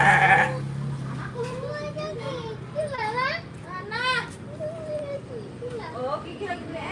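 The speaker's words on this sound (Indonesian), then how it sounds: "Kambingnya manggil tuh, temenin." Goat bleating outdoors, several wavering calls spread through the clip, close and clear, with children's voices and chatter around them.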